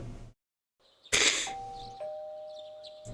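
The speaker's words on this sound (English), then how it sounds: "You can hear something in the distance. A doorbell." A two-tone ding-dong doorbell chime in the Persona 4 Golden video game rings out clearly after a brief silence and a burst of noise, with the second tone ringing on and fading slowly.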